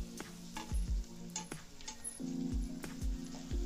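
Chopped red and green chillies frying in a pan, a soft sizzle under repeated rhythmic spatula knocks and scrapes against the pan, close and fairly quiet, without speech.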